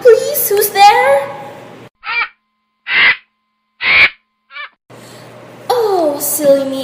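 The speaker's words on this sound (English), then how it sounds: "Oh, silly me. It was just a bird." A bird caws four times in short, harsh bursts, alone in a quiet gap between stretches of speech in a dramatized story.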